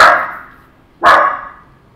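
Two sharp, loud dog barks, one at the very start and another about a second later, each fading quickly into quiet with nothing else audible.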